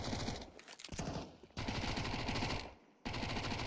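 Pistol fire during a professional Counter-Strike match: rapid bursts of sharp shots in quick clusters, loud and close, broken by two brief pauses.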